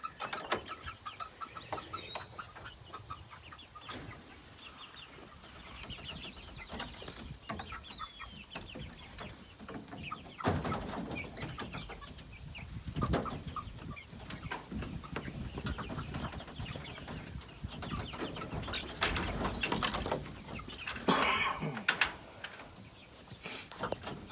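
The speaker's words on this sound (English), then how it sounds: "Release the chicken!" Chickens cluck softly and intermittently at a moderate distance, with occasional sharper calls and faint rustling and thumps around them in a quiet outdoor setting.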